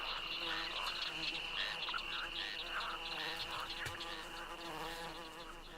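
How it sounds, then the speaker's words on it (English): Dense ambient swamp chorus in the New World game: steady insect buzzing and whining mixed with repeated frog croaks, continuous and fairly even throughout, with no talking. "Or are they just buzzing insects?"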